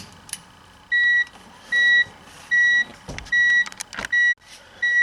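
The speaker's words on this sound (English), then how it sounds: "Take the key out and get rid of that beeping." A BMW's key-in-ignition warning chime beeps repeatedly in steady pulses, close and clear, with faint mechanical clicks between them.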